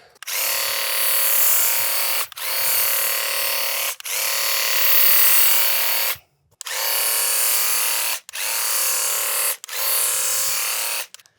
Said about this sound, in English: Just work that little pump. So there's just a little tiny pump in there.